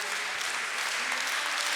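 A crowd at a Hindi kavi sammelan poetry recital breaks into dense, continuous clapping, a loud and even wash of applause with no voice over it.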